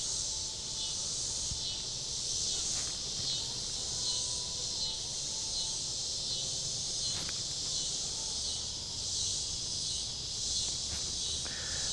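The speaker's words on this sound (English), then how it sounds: "I don't know if you can hear it over the cicadas." Outdoor summer cicadas produce a dense, continuous high-pitched buzz that stays steady throughout. Faint rustling and small knocks come from someone fishing by the water nearby.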